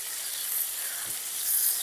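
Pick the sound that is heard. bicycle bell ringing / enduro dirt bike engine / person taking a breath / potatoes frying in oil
potatoes frying in oil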